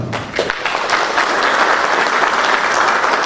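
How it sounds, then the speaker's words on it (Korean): An audience at a lecture on game-based learning gives a loud, sustained round of welcoming applause for the professor, dense clapping continuing evenly throughout. "오늘 강연사로 오신 위정윤 교수님께 뜨거운 환영의 박수를 부탁드리겠습니다."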